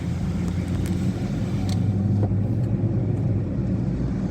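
Used Hyundai car driving along a road, a steady low engine and road rumble heard from inside the cabin, loud and continuous without speech.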